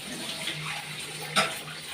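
Water runs steadily from a tap in a continuous hiss, with a brief louder splash partway through.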